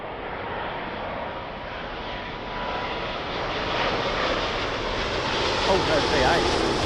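A Thai Airways Boeing 777-300 arriving from Bangkok on approach to London Heathrow, its jet engines a broad, steady roar that swells slightly as it nears, with no voices over it.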